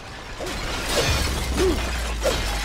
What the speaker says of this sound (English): When in doubt, just smash some crockery